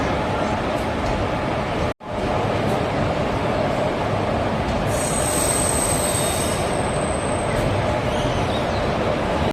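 Passenger train travelling from Erode to Palakkad Town, rolling steadily with loud continuous rail rumble and a high, sustained wheel squeal rising midway, with a brief dropout near the start.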